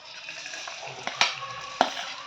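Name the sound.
cumin seeds crackling while frying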